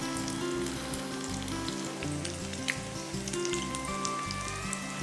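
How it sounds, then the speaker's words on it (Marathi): Sabudana cheese vadas shallow frying in oil in a pan, a steady close sizzle and crackle with small pops throughout, no voices. "आणि आपण शॅलो फ्राय करतोय, अगदी पूर्ण डीप नाही करत"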